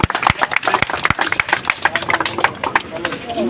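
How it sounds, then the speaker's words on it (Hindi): Loud applause from a crowd at a village political gathering in Haryana, with uneven bursts of claps close by, mixed with voices and background rumble. "बड़ी जोरदार तालियां"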